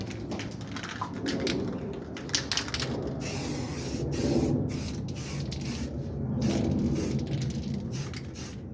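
Gloss black spray paint hisses from an aerosol can onto a bakkie part in a series of close, short bursts and longer passes, separated by brief pauses, with no talking.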